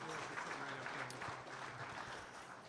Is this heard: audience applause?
yes